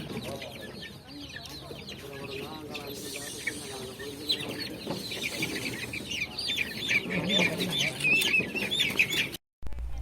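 A flock of speckled chickens clucks and squawks continuously, close and busy, with voices talking among them, in Oddusuddan, Mullaitivu district, Sri Lanka.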